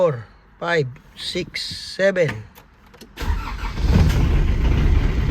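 An old car, fitted with new shocks and bushings and a fresh oil change, cranks and catches, then settles into a loud, steady, rough idle after several seconds of people talking nearby.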